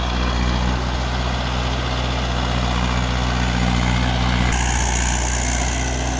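A heavy diesel tractor engine idles steadily nearby, a constant low rumbling drone with a slight shift in tone partway through.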